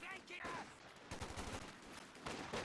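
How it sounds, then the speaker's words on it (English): A rifle grenade fired into a building in the real-time strategy game Company of Heroes 2, heard as a cluster of sharp gunfire and blasts over a low rumble, with a voice talking faintly in the background. "rifle grenade coming into the building though"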